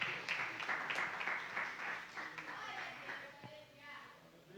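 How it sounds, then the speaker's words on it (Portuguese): A church congregation claps in a sustained burst of applause during a worship service, with voices and a faint reverberant hall sound mixed in. "Aplauda Jesus"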